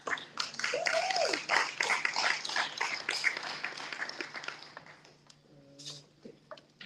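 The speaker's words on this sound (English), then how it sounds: "Let's keep up the clapping and the hooting and hollering" Audience at an awards reception claps and whoops, a dense, lively burst of applause with hooting that gradually thins out and fades over several seconds, with a few faint voices near the end.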